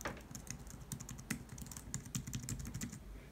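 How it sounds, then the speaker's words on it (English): Soft, muted keystrokes tapping in quick irregular bursts on the quiet, shallow, laptop-like keyboard of a BrailleSense Polaris Mini, close by with nothing else around. "it's not a loud keyboard at all, which is really great if you're typing"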